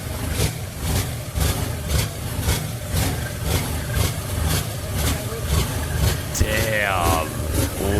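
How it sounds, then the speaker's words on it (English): Several turbo diesel boat engines idle together, a loud, dense rumble with a steady, throbbing pulse that fills the whole stretch, close by and unbroken. "There's the multiple engines."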